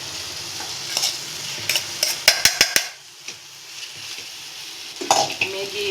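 Boiled rice is stirred with Maggi masala in a sizzling pan, with a steady frying hiss under several sharp clicks and scrapes of a spoon against the metal, all close by.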